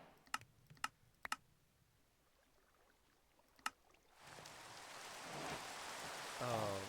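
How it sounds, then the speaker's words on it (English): Rain begins in a video game, a broad steady hiss swelling in after a few quiet keyboard clicks and continuing loudly to the end. "Oh, why you gotta be raining?"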